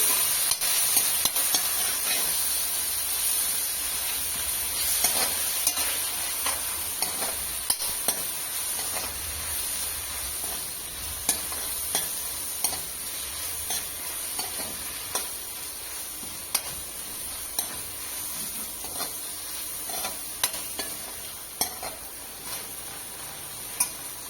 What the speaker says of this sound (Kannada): ಚೆನ್ನಾಗಿ ಮಿಕ್ಸ್ ಮಾಡಿಕೊಂಡು ಫ್ರೈ ಮಾಡ್ತಾಯಿರಿ